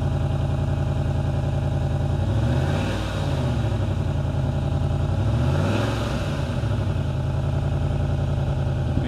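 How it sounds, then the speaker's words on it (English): A Jaguar XK8 engine idles steadily up close, with a throbbing, uneven low rumble and faint popping and ticking from an exhaust blow at the front throughout. "It's that exhaust blow. You can hear it like popping and crackling at the front."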